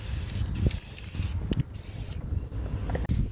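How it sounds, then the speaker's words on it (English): A close, continuous hiss of an aerosol paint spray can coating a rusty trailer, with brief gaps and small clicks as the nozzle is pressed and released. "I'm going to spray everything I can't get with this"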